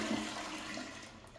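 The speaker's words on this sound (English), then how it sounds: "toilet flush." A household toilet flushes close by, a steady rushing wash of water filling the whole short moment with no voices.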